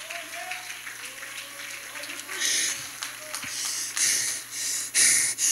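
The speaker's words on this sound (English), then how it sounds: "Clap your hands unto the Lord." A church congregation claps hands in praise during a sermon. The clapping starts faint beneath a low hum and speech, then swells into louder, denser bursts toward the end.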